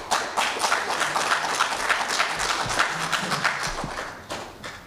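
Audience applause at a League of Women Voters candidate forum for a state house district, a dense spread of clapping that holds steady for about five seconds before easing off, with no voices over it.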